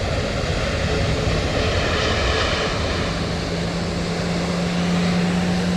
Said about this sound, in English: Hopefully the ambient is sounding good on those planes landing.